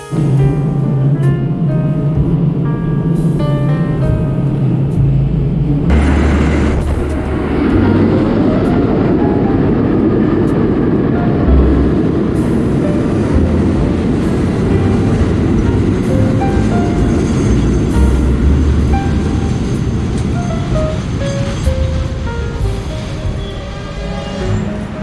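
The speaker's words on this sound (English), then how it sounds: "So I wonder why the trains were this loud." An R-32 subway train roars loudly along the 2nd Avenue line, a steady heavy rumble and rattle of wheels on rail that carries on for the whole stretch with no talk.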